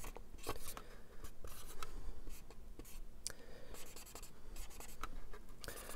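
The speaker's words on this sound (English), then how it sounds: "So we'll sign it. Do a little silly drawing." Pen or marker scratching across a plastic 1/48 scale model kit of a Space: 1999 Eagle Transporter while signing it and doodling a quick drawing by hand, close and steady, with short rapid strokes and small pauses between lines.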